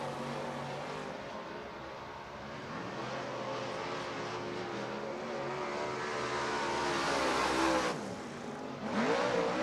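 A modified race car drives onto the racetrack at an East Bay WinterNationals event, its engine droning loudly and building steadily, then dipping briefly before surging back near the end.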